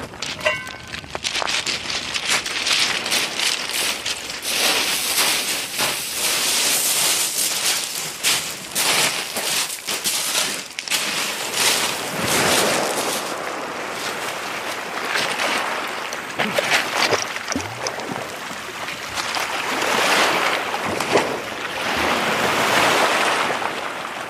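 Seawater washing at the shoreline where a pan is being filled for cooking sea kale, loud churning surf with rolling surges, buffeted by gusty wind noise on the microphone.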